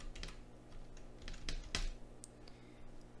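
Several keystrokes tapped on a computer keyboard while a client code is entered, an irregular run of close clicks over a low steady background hum.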